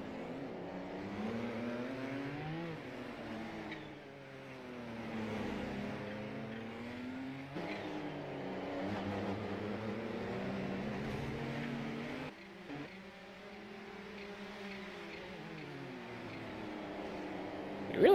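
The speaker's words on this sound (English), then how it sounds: "You really hear those turbos." Turbocharged race car engines in the iRacing video game rev and shift through the gears, their droning pitch climbing and falling in repeated sweeps at moderate volume.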